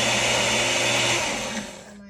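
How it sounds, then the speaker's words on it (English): An electric blender whirs loudly as it purees raw onions into a paste, a steady high-pitched motor roar that fades and winds down at the end. "just blend up the onions as is to make an onion paste"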